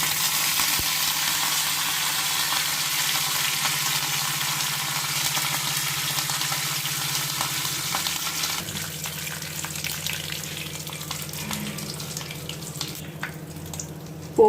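Mustard seeds, cumin, chana and urad dal and curry leaves splutter in hot oil for a tomato kaaram, a close broadband sizzling hiss that gradually softens and thins out toward the end.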